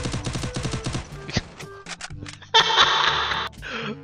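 Gunfire in the mobile battle game Free Fire: rapid bursts of shots early on, then scattered single shots and a loud sustained blast of noise, mixed with game effects.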